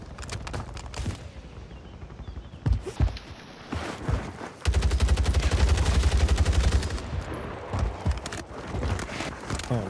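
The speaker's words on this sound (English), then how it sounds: "We're being sniped from behind too, bro." Gunfire from a sniper and other weapons rings out in a Warzone 3 match, with sharp shots and a sustained burst of rapid fire mid-way, under faint game ambience and movement.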